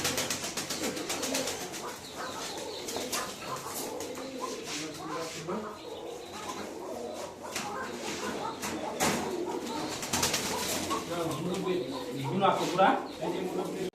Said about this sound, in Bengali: আমাদের সব কবুতর সেট হয়ে গেছে